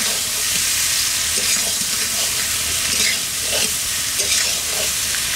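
Pieces of fried fish are added to a spice masala that has already cooked down in a pan, giving a steady close sizzle with occasional stirring scrapes and bubbling.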